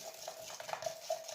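Stirring a wet paper-and-porcelain mixture for a stamped fish: a soft, steady scraping swirl with a few light clicks of the tool against the container, close and quiet, with no voices.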